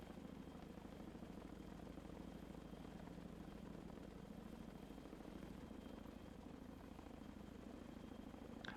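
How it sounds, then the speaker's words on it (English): Helicopters flying in the Sea Power naval combat game, a steady low rotor drone and engine rumble holding at a constant level throughout, distant and unbroken with no voices. "it looks like we've got all helicopters inbound."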